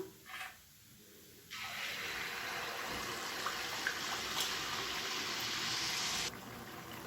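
Sweet rice-flour appam batter hitting hot oil sets off a sudden bright sizzle that holds steady for several seconds and then cuts off abruptly, after a quiet opening with a brief soft knock.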